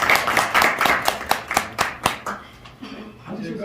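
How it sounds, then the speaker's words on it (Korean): An audience at a Korean university lecture welcomes a guest speaker with applause. Distinct claps come in a steady rhythm at first, then thin out and fade as a voice begins to speak. "여러분 뜨거운 박수로 환영해 주시고"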